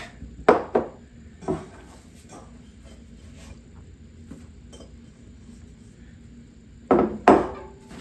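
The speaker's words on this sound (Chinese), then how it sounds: "面发好了，咱就开始揉面啊。" Bread dough for steamed flower rolls is kneaded on a floured wooden board, making a few soft, separate thumps and slaps, two early and a close pair near the end, with quiet pauses between.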